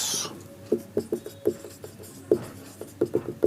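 Chalk or marker writing on a board during a chemistry lecture, making a series of short quick taps and scratches in an irregular rhythm, close and alone.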